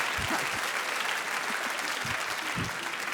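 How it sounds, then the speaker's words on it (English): Audience applause at a comedy show, a dense steady wash of clapping from a live crowd filling the whole stretch, with a few low thumps scattered beneath it. "What an odd thing to applaud that is."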